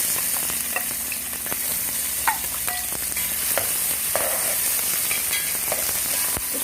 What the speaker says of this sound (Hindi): इसको हम भूनते रहेंगे।